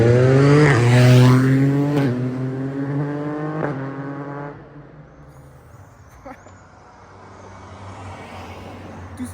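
A Yamaha TMAX 560 scooter revs hard and accelerates with quickshifter gear changes, its engine note climbing loud and close, then fading away into the distance.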